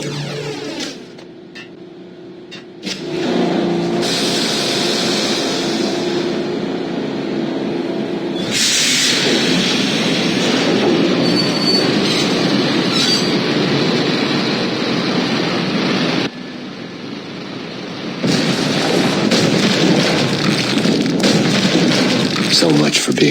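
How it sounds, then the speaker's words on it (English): A train runs in the Max Payne video game, a loud continuous rumble and roar with booming surges, broken by short quieter gaps. "The train lit up like a Christmas tree."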